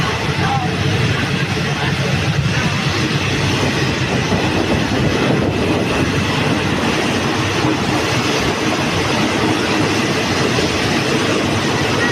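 Thai rapid train No. 167 runs on rails between Thi Wang and Kantang stations, a loud continuous rumble with clickety-clack wheel rhythm close by throughout.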